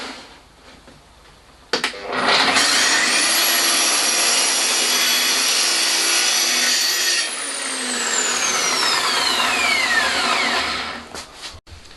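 A track saw rips through wood strips in one long, loud, steady cut lasting several seconds, the motor whine holding then winding down as the blade spins to a stop, with a few knocks of handling at either end.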